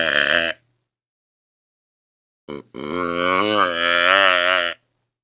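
A hand-blown deer call imitating a doe in heat, heard as a brief nasal bleat followed by a longer, wavering, moaning call that rises slightly in pitch and is heard alone.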